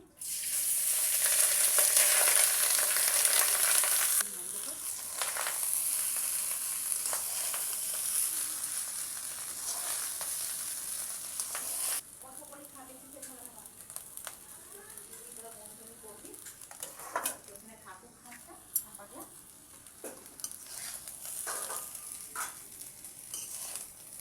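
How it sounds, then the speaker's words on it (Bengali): Rice with peas, nuts and raisins fries in a wok. A loud, steady sizzle fills the first stretch, then drops to a softer crackle broken by scraping stirs and a few clinks. "দেখো বন্ধুরা এবার এটা ভেজে দিচ্ছি"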